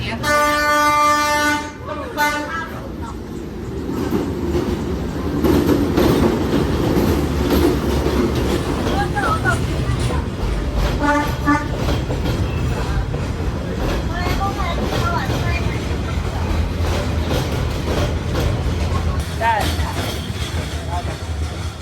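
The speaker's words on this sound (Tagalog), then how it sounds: "Ganda ng tren. Ibang tren." A train rumbles past in Hanoi with a steady rolling roar, opening with a loud horn blast, with faint voices underneath.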